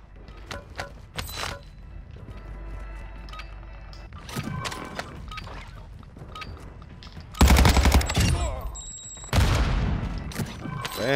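Gunfire in Call of Duty DMZ comes as scattered single shots followed by two loud, dense automatic bursts late on, with lighter clicks and thumps between them.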